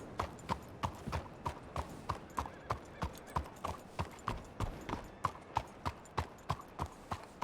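Horse hooves clip-clop in a steady, even rhythm, each hoof strike crisp and clearly separated, moderately close and heard alone without talk.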